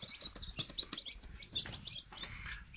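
Baby chicks just moved from an incubator into a warm brooder pen peep rapidly and continuously, a dense overlapping flock of high chirps close by with no talking.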